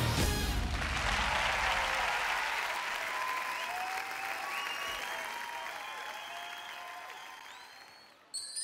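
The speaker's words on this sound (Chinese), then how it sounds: "掌声给他" Sustained audience applause in a television variety-show studio greeting a singer, a dense wash of clapping that starts loud and gradually fades over several seconds, with no talking over it.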